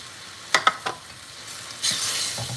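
Vegetables and tomato stir-fried in a pan for pad see ew, with a few sharp scraping stir strokes followed by a soft, steady sizzle; no voices.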